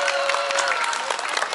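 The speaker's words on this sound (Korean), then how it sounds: "박수 한번 주세요." An audience at a family fathers' parenting event in Jangheung claps in sustained, dense applause, loud and close, with crowd murmur mixed in.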